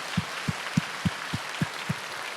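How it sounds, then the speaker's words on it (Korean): Church congregation clapping in unison, seven evenly spaced claps in a steady rhythm, moderately loud against a quiet room. "그래서 여러분 우리 큰 영광의 박수로 우리 주님께 올려드리겠습니다."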